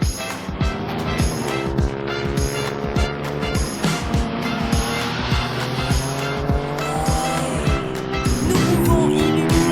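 A car is driven hard around a race track at Stary Kisielin, with a loud engine revving and shifting through gears and tires squealing through corners, close and continuous.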